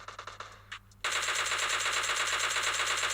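Automatic gunfire in a battle royale video game: a few separate shots, then a sustained, loud, rapid burst that keeps going to the end.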